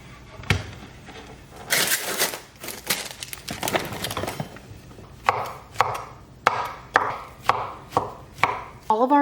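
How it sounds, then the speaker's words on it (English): A knife dices bell peppers, onion and mushrooms on a cutting board. Busy irregular chopping gives way to a steadier run of distinct, evenly spaced chops, close and crisp, with no talking. "I'm gonna dice up 2 bell peppers, an onion,"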